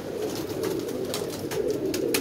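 Several pigeons coo softly and continuously at a pigeon loft, a low murmuring chorus with faint scattered clicks and rustles over steady background hiss.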